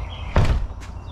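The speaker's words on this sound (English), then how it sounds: "Close the door." A door closes with one dull thud and a short scrape, close and fairly loud, followed by a faint second knock.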